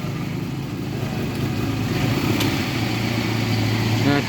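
A steady engine idle from a 1997 Toyota Kijang Krista hums throughout, a low even rumble close by with no voices.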